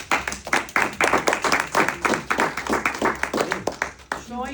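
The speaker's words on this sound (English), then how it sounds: "A round of applause for you" An audience claps for a speaker at a talk, quick hand claps in an uneven rhythm that thin out toward the end, with some voices underneath.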